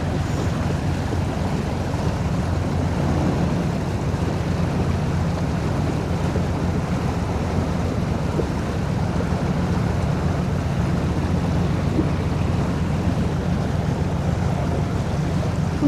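Continuous low churning of a harbour launch's engine with rushing, washing water from the propeller, steady throughout with wind buffeting the microphone.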